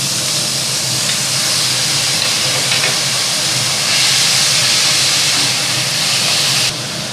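Boiled bottle gourd pieces hitting a hot pan for lau ghonto, giving a loud, continuous steamy hiss that stays broad and steady, then cuts off abruptly near the end.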